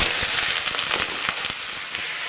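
Chopped onions sauté in oil for a dry fish fry, giving a loud, dense crackling sizzle with scattered sharp pops, close up and steady.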